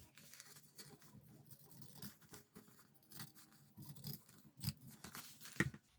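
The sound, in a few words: pinking shears cutting fabric seam allowance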